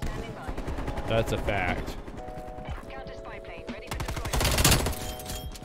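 Streetsweeper shotgun hip-firing in Cold War, a sharp blast and then a run of close, loud shots near the end, with a voice talking over the gunfire and mechanical clicks between shots.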